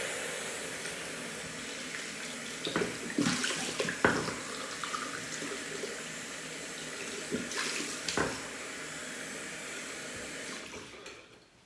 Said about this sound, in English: So I need to get some water going here.